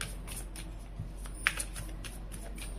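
Tarot cards being shuffled by hand: faint, scattered riffles and flicks with a few sharper snaps, heard close and quiet over a low background hum.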